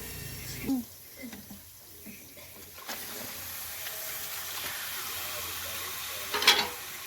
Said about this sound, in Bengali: এবার মাংসটার সাথে মশলা দিয়ে এবারে মাংস আর মশলা এবার আমি কষতে থাকবো।